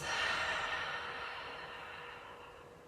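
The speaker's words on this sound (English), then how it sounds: "and breathe out through the mouth." A single slow, soft exhale through the mouth during a gentle yoga breathing exercise, a breathy rush that is strongest at the start and gradually fades away.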